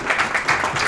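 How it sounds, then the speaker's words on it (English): Brief burst of audience applause at a corporate cloud security talk, a short patch of steady clapping from the room. "I think we should all give him a round of applause"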